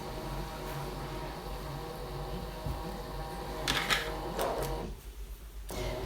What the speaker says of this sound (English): I'll save the scan temporarily into the machine and press Start.